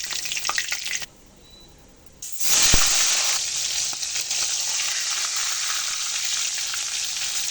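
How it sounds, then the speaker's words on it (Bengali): Pieces of rohu fish fry in hot oil with a loud, bright crackling sizzle that drops away briefly, then returns strongly with a sharp spattering burst and a steady hiss, no talking. "মাছগুলো আমার খুব ভালো করে ভাজা হয়ে গেছে"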